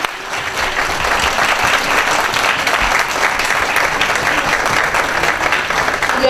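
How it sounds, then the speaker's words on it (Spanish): A seated audience at a heritage lecture in Viña del Mar applauds steadily and loudly, dense clapping sustained throughout without letting up. "Le vamos a dar un aplauso."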